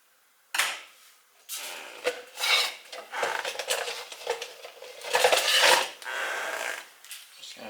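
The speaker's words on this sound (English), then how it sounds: "Quite easy to cut with scissors." Scissors snip and scrape through thin aluminium sheet in a series of uneven, crinkly cuts, close and fairly loud, with short gaps between strokes.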